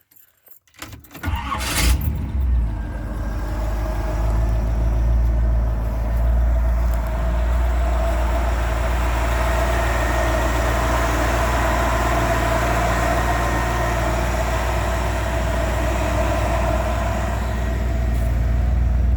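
A 1963 Cadillac engine cranks briefly, catches, and settles into a loud, steady idle that holds evenly throughout.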